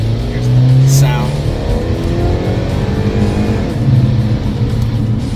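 A 2018 Chevrolet Malibu with a cold air intake and the silencer removed revs in a steady, loud engine drone with a brief rise early on, while a person talks over it.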